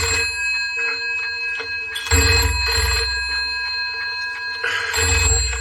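A telephone bell rings in a room, two long trilling rings separated by a pause, loud and close with no talk over it.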